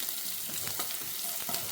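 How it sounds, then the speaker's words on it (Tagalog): A small amount of onion frying in a pan as a garnish for rice, a steady crackling sizzle with soft stirring scrapes, close and moderately quiet, with no talk. "Magprito tayo ng konting sibuyas, pang-garnish natin mamaya sa kanin."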